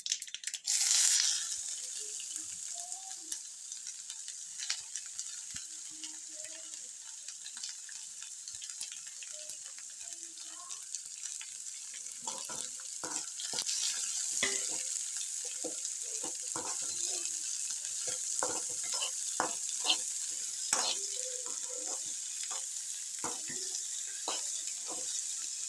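Onions sizzling steadily in a hot pan while making tomato sambar, a constant bright frying hiss with frequent scraping stirs and clinks of a spoon against the pan, close up throughout.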